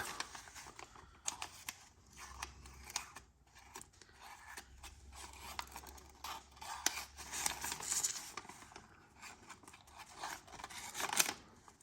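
A reprofiled Kershaw 8650 folding knife drawn through thin phone book paper, close-up dry rasping and scratchy slicing strokes in irregular bursts.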